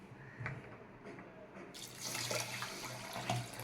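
Running water splashes into a vessel of foxtail millet and moong dal close by, starting softly and then gushing louder as the pour continues.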